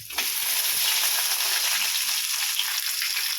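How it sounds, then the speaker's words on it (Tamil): Garlic and ginger sizzle and crackle steadily in a hot pan of oil, a loud continuous frying hiss with no voices. "பூண்டு போடுறேன் இந்த ஒரு இஞ்சி போடுறேன்"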